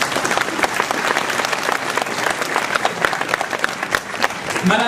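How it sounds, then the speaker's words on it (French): An audience claps steadily throughout at a mayor's New Year ceremony in Ouistreham, dense applause filling the hall with a brief voice near the end. "Et on peut l'applaudir bien sûr."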